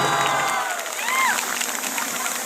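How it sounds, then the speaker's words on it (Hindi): Applause and cheering for Colonel R.K. Tiwari at a January 26, 2024 gathering of children: a sustained roar of clapping with shouts and a few high whistles rising above it. "आदरणीय कर्नल R.K. तिवारी जी के लिए जोरदार तालियां होनी चाहिए।"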